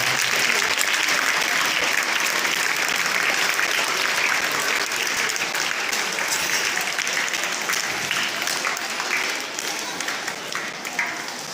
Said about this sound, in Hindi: आपकी ताली की बौछारें मिलनी चाहिए।